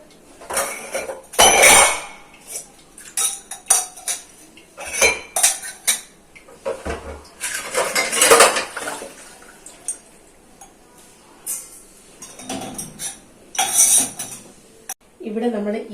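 Dishes and cups being stacked upside down into the racks of a Bosch dishwasher, giving scattered close clinks and clatters of crockery and cutlery in irregular bursts, with a voice talking in between.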